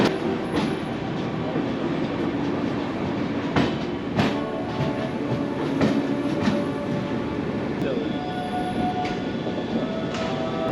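Doon Express 13009 running on its tracks, a steady loud rumble of wheels with rattling carriage noise and occasional sharp clanks throughout, heard from inside the moving train with no voices.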